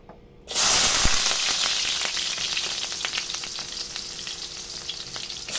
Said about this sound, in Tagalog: gigisa ko lang yung pork